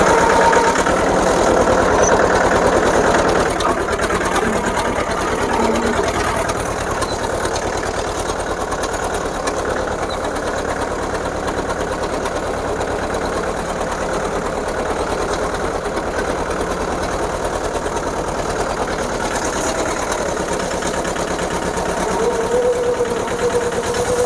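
A tractor fitted with a trench-type sugarcane earthing-up implement runs in a field, its engine droning steadily and loudly with a rapid mechanical chatter throughout, no talking.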